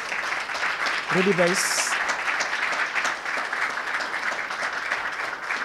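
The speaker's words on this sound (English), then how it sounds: "let's give another round of applause for our author" An audience applauds an author and two professorial respondents at a Cornerstone Institute book event, with steady, dense clapping filling the whole stretch and a brief spoken name rising over it near the start.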